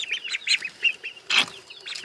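Ducks and chickens in a homestead coop, close and lively, giving quick high peeps and chirps in rapid overlapping bursts, with a brief louder flurry near the middle.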